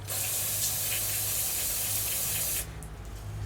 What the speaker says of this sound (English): Just going to hit it with some brake clean.